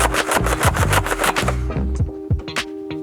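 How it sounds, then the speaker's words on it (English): A Nerf Rival Hades blaster is slam fired in a fast rapid string of about nine sharp snapping shots, then slows into a few scattered clicks and pops close to the mic. "you can just start slam firing all day"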